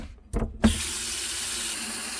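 Tap water gushes into a kitchen sink while chicken is rinsed, starting after a couple of short knocks and then running as a steady, close, fairly loud hiss with no talking.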